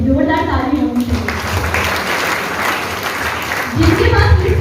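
Applause from an audience at a sales training session in Patna, a steady dense clatter of clapping filling the room from start to finish, swelling slightly louder near the end.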